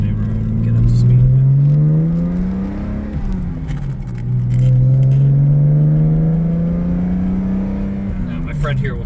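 A 1985 Jaguar XJS accelerating on the road, its engine note climbing steadily in two long rising sweeps with a brief dip between, loud and close from inside the car.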